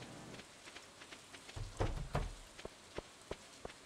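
Rain falls steadily in the Stardew Valley video game, a soft patter of drops under a few louder splashes and thumps, faint and with no talking over it.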